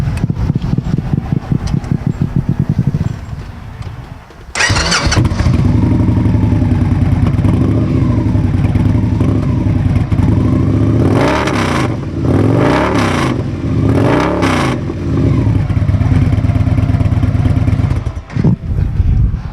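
A Victory Cross Country motorcycle fitted with a new aftermarket exhaust, heard up close as it idles with a deep burble, then is revved hard several times in short bursts before settling back toward idle.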